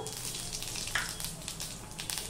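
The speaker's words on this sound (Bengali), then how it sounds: "কড়াইয়ে তেল দিয়ে তেলটা গরম হয়ে গেছে। এবার আমি এই 5 ফোড়ন দিয়ে দিলাম" Five-spice seeds, about a spoonful, hit hot oil in a wok and give off a steady, quiet sizzle with a brief louder crackle near the middle.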